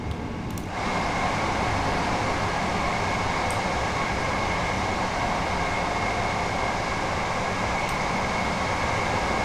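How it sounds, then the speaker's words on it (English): A train runs along the East Coastway Line in the Train Sim World video game, giving a steady, loud rolling rumble with a constant hum that continues without a break after a brief quieter start. "I mean, it's such a nice train."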